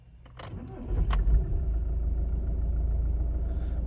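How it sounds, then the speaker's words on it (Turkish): A 2.0 TDI diesel car engine (BKD, pump-injection) cranks briefly and catches, then settles into a steady low rumbling idle close by. "Şimdi bir marşa basacağım. Anlık tüketimi ve sesi duyun."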